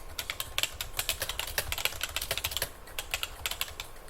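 Quick, irregular clicks of fingers typing on a computer keyboard, close and fairly quiet, in bursts with brief pauses and no talking over them.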